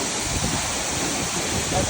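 Steady broadband rush of a waterfall at an outdoor elopement photo shoot, a constant wash of falling water filling the short stretch at moderate level.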